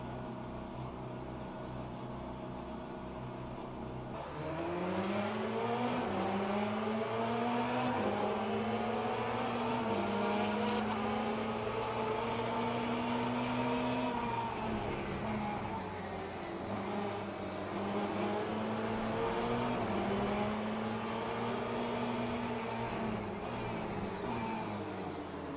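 LMP2 prototypes and GT cars in Le Mans Ultimate online racing: a loud engine whine that rises at first, then holds and shifts pitch through gear changes, with a second car's note sliding past close by.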